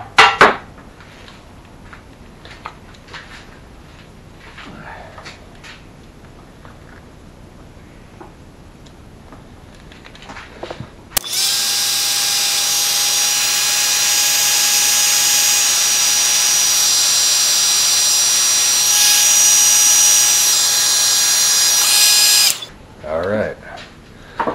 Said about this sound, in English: Let me grab my heat gun.